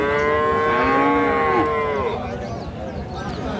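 A cow at the Raniganj cattle market lets out one long, loud moo that falls in pitch, with crowd noise and murmuring behind it.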